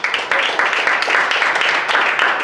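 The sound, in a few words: congregation applause in church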